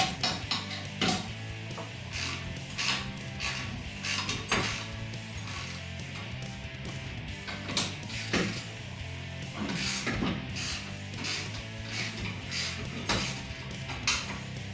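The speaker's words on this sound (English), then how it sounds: "we're going to loosen these bolts to take out so that we can attach our hardware for our new bumper" A wrench works loose 16 mm bumper bolts on a Jeep Gladiator, sending repeated metallic ratcheting clicks and clanks in irregular bursts, close and fairly loud.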